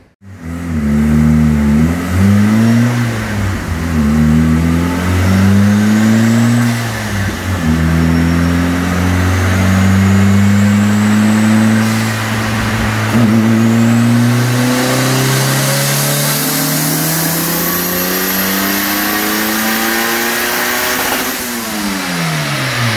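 Turbocharged Honda Del Sol engine on a dyno, loud and close, climbing through the revs in a long pull with a brief dip partway, a rising whine up top, then dropping back off.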